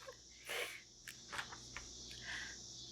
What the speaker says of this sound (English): So many cicadas,